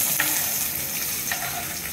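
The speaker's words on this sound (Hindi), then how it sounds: "प्याज को डाल देना है।" Chopped onions sizzle in a hot tempering of cumin and nigella seeds for aloo bhujia, a steady, close frying hiss with a few brief crackles throughout.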